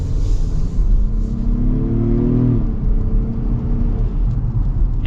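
A 2024 luxury SUV, an Acura MDX or Infiniti QX60, accelerates in sport mode, its engine note rising steadily as a continuous rumbling pull heard from inside the cabin, with the pitch climbing before easing off.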